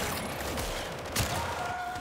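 Steady dense gunfire from enemies firing on a ship in the sci-fi game Warframe, a continuous rattling barrage with one louder burst midway, no talk.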